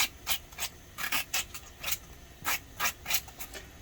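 A cucumber's seeds and flesh are scraped out with repeated rasping strokes, about a dozen short, close scratches in an uneven rhythm with brief gaps between them.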